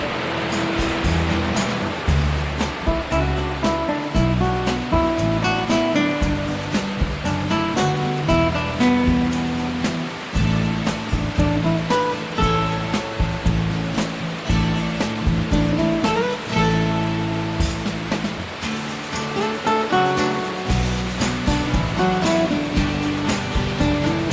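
A steady, loud roar of rushing water from a waterfall in Sri Lanka, swollen and muddy after rain, continuous and unbroken throughout, with no voices.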